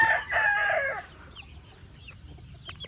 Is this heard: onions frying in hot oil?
no